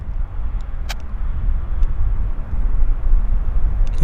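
An Air Canada Jazz plane arriving from Seattle lands at Vancouver airport, its loud, steady engine roar and broad rushing noise holding close throughout, with a few faint clicks over it.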